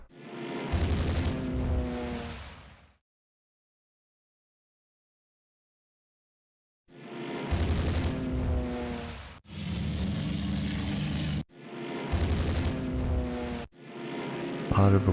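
Bombs strike ships in the naval strategy game Rule the Waves 2, heard as heavy booming explosions in loud sustained bursts, one burst then a pause, then four more in close succession.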